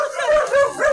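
A dog barks and yips in short, loud, close bursts, about three whining barks in quick succession, heard outdoors on a rainy day while collecting junk.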